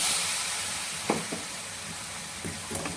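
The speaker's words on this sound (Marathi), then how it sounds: "गरम पाणी टाकायचं थोडंसं" Hot water goes into chicken masala in a hot pan, setting off a steady sizzling hiss broken by a few sharper spatters and pops.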